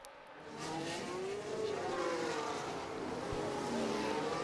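Racing cars in F1 Manager 25 sweep past during an overtake, engine whine rising and falling steadily, fairly quiet and without talk.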